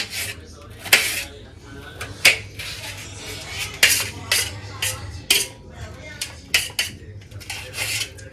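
A knife chops onions dhaba style on a board. The strokes are close and uneven, bursts of sharp cuts and scrapes with short pauses between them, and faint kitchen noise sits underneath.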